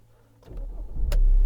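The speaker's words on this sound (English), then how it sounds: "Car starts, keyless go." A 2012 BMW 520d SE with keyless go starts up, a quiet click and whirr followed by the diesel engine catching and settling into a loud, low steady idle close by.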